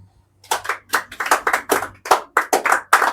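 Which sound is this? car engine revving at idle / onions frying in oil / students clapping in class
students clapping in class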